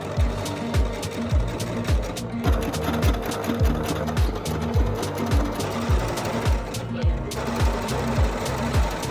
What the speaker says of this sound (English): So I'm going to continue winding my bobbin and then get these rows of stitching done.